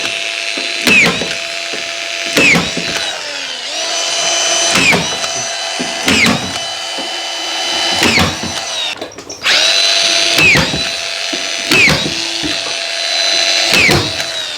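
A power drill drives screws into timber along a drywall ceiling, with loud close whirring bursts repeating about every two seconds, each rising and stopping with a ratcheting clutch rattle as the screw seats.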